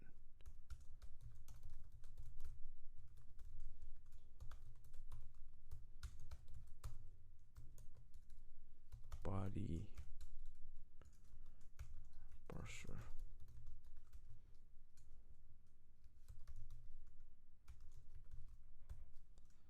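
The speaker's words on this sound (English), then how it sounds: "let's type in all the dependencies that required." Fingers type on a computer keyboard while entering code dependencies, a steady patter of soft clicky keystrokes close up with a couple of sharper clacks, under and between quiet talk.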